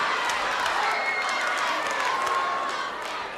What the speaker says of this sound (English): Listen to our crowd.